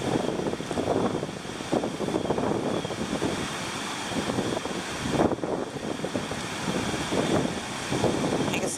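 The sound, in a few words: wind blowing outdoors during Hurricane Matthew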